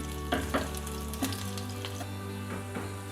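Garlic sizzles steadily in hot oil for a dal tempering, a dense constant crackle with a few brief stirring clinks and pops over the top.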